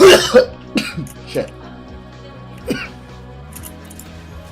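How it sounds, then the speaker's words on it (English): Several harsh coughs from one person, close and loud, clustered at the start with a few more spaced out after, a brief spoken word among them. "What are you supposed to say when somebody coughs?"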